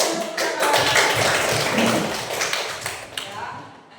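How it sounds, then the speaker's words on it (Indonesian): A classroom of children clapping in a dense, continuous burst of applause for about four seconds, loud and close, with some voices mixed in, tapering off at the end. "Berikan tepuk tangan."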